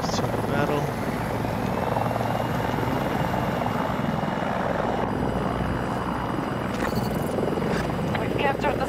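A Battlefield 2042 helicopter drones loudly and steadily throughout, its rotor and engine noise filling the scene with voices faintly audible beneath it.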